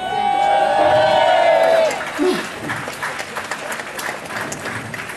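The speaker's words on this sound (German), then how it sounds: "Da hat sich, glaube ich, jeder den Applaus verdient, weil das war ein ganz tolles Finale." A crowd cheers and applauds at the finale of a dragon boat regatta during a harbour festival in Schierstein. A loud whistle-like tone sounds first, then steady clapping and cheering continue over a busy outdoor din.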